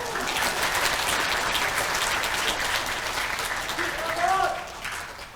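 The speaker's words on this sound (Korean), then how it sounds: "여러분 박수 한번 주시죠." An audience in a National Assembly conference hall applauds at a veterans' rally, a sustained wash of clapping with a brief voice or cheer rising near the end.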